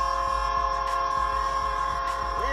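A locomotive in a Roblox railfanning game rumbles past Joliet Junction, its steady horn chord sounding loud and sustained over rhythmic, clicking wheel beats on the track.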